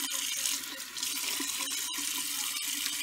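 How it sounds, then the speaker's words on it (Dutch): Hot tap water runs steadily into a sink while someone washes their face, a close, continuous hissing splash with faint soft knocks. "Ik ga nu mijn gezicht wassen."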